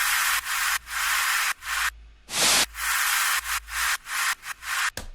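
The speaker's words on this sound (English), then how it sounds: "one thing I did do is I added these white noise elements down here." Isolated white noise synth layer in an electronic production, bursts of hissing noise pulsing on and off in a choppy rhythm, loud and alone with no voices.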